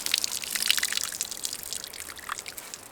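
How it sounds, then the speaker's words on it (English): Water streams steadily from a Geyser Systems portable pump shower set on a low flow, a soft continuous hiss and patter close by with no talking. "So the water is going to flow out"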